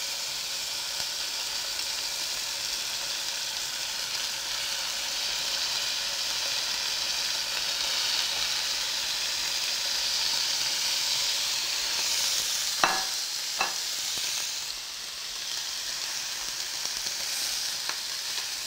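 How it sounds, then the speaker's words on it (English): Lamb chops sizzle in a smoking-hot grill pan, giving a steady, loud frying hiss throughout, with a few brief clicks and scrapes partway through and no voices. "Here's a sizzle."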